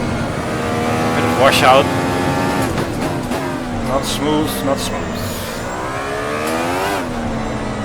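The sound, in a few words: race car engine in a racing video game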